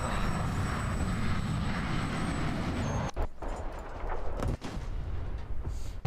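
Propeller aircraft roaring overhead in the combat game War Thunder during a drone-age update battle, a loud continuous engine drone that cuts out sharply a few times amid explosive mechanical noise.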